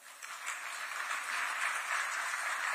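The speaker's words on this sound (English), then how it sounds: "A lot of applause for the Principal Secretary." Audience applause at an international conference on the Safe Schools Declaration, a dense, sustained clapping that swells within the first half second and holds steady.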